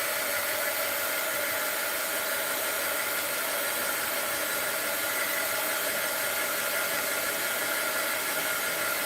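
A hair dryer blowing on paint on an art journal page, a steady close-up whooshing hiss that runs unbroken and even the whole time.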